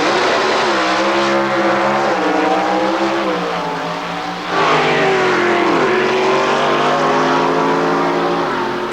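Loud Ford Thunderbird pro stock drag racing cars roar and rev up through gear changes, the pitch climbing and dropping as the cars accelerate close by.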